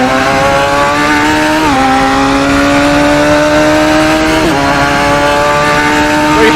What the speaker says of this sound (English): Very high revving engine.